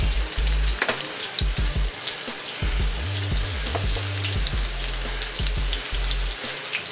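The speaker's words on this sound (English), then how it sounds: "we're just gonna put these in here and we're just gonna sear these off" Country style ribs sear in a hot pan, a loud steady sizzle and crackle of frying meat with scattered pops and a few low clunks of handling, close and without talk.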